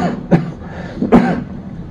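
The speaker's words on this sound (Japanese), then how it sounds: "話しながら咳してますけど、" Two short, rough coughs about a second apart, close and fairly loud, with a faint background hum.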